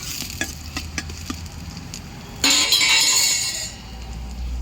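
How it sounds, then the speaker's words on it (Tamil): Onion and curry leaves fry with dried fish over a wood stove, starting as a crackling sizzle with light clinks, then bursting into a louder, hissing sizzle that fades slightly toward the end. "வெங்காயம், கருவேப்பிலை எல்லாமே அதில் இருக்குது. போட்டு நல்லா ஃப்ரை பண்ணிக்கலாம்."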